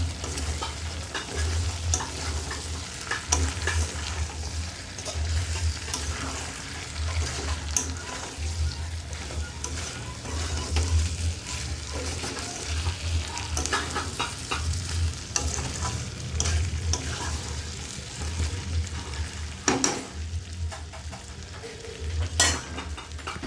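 Meat and potatoes being stir-fried together in a pan, with steady sizzling and repeated scraping and stirring strokes throughout, close and continuous with no talking.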